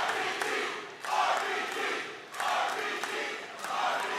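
Professional wrestling crowd in an arena cheering, a loud roar of many voices that swells in waves with brief dips, a commentator's voice partly over it.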